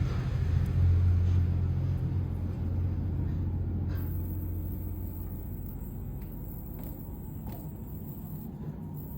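A potter's wheel turns slowly while a large terracotta flowerpot of wild clay is thrown, giving a steady low motor hum with a soft rumbling drone that stays close and even throughout, with no talking.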